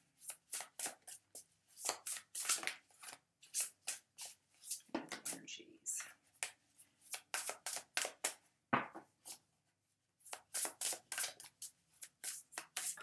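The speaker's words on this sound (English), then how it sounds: "The way I do my readings is I shuffle till one card falls out." Tarot cards shuffled by hand in repeated quick riffling bursts, close and fairly crisp, with short pauses between rounds and no talking.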